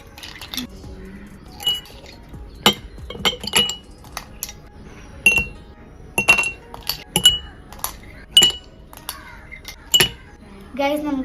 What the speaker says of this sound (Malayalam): അപ്പൊ ഇനി നമുക്ക് ഗ്ലാസ്സിലേക്ക് ഐസ് ക്യൂബ് ഇട്ട് കൊടുക്കാം.